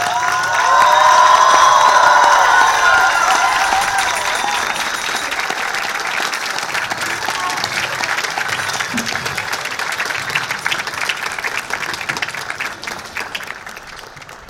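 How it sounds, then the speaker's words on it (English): Sustained audience applause with cheering at a high school graduation, loud at first with shouts and whoops, then settling into steady, fading clapping from a large crowd. "please stand and join us as we applaud Mr. McNair one final time"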